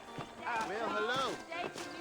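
Horse hooves in the Red Dead Redemption video game clop along beneath someone talking, with a brief whinny-like call mixed in over a short stretch.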